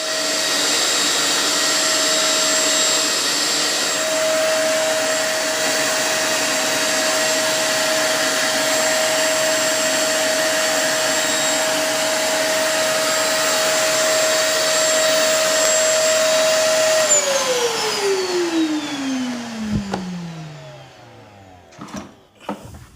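A Harbor Freight shop vacuum runs steadily with a loud whine while sucking oil from a lawnmower, then is switched off and its tone falls away as the motor winds down.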